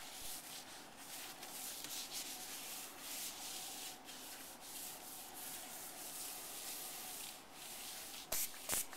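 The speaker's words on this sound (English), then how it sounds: "Now we finish wiping down the countertop with the white terrycloth towel." A white terrycloth towel wipes across a sealed granite countertop, giving a steady, close rubbing swish that runs nearly unbroken, with a couple of sharper scuffs near the end.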